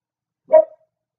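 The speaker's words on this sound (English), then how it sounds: "It was just a little bark, so I'm not sure if you did." A single short, soft dog bark, brief and isolated against silence.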